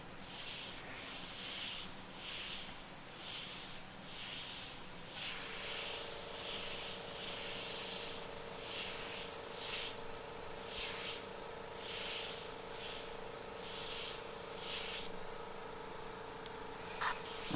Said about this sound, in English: I'm going to clean my airbrush out.